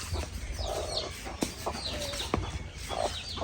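Nearby chickens cluck and murmur in short, uneven bursts over a soft outdoor background, with a few sharp clicks and faint chirps mixed in.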